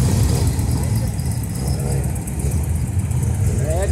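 A Volkswagen Beetle engine revs amid a busy car meet, a loud, close mid-pitched motor drone that rises and falls with a rev near the end while people talk nearby.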